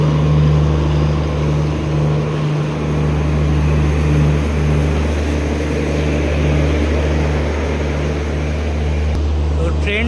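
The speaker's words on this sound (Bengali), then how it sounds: "তো এই আমাদের ট্রেন শালিমার বিশাখাপত্তনম ঢুকছে 2 নম্বর প্ল্যাটফর্মে" A Shalimar–Visakhapatnam express train pulls into platform 2 with a loud, steady, deep rumble and drone that holds evenly throughout, with a faint hum of station noise layered over it.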